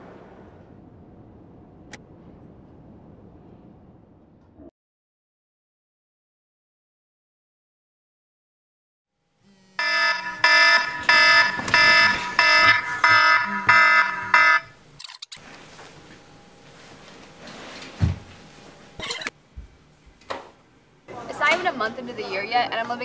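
Fire alarm blaring in a new college dorm, a loud pulsing electronic tone that cuts in after quiet talking and a pause, then fades into more voices and noise.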